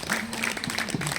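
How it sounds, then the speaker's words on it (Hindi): Audience applause at a yoga camp, a steady broadband patter of clapping hands that holds moderately loud for the whole short stretch, with faint voices mixed in underneath. "अब तालियां बजती रहे, कंजूसी नहीं।"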